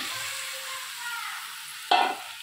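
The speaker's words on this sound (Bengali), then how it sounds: "এই মাংসটা আমি এবারে ঢেলে দেবো কড়ার মধ্যে" Spiced marinated chicken poured into a hot wok, giving a sudden loud sizzle that erupts near the end over a quieter background frying hiss.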